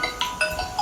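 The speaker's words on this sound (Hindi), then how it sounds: "इसकी गर्लफ्रेंड का फ़ोन आ गया।" An incoming phone call rings with a quick, repeating electronic tone pattern, close and moderately loud, with nobody talking.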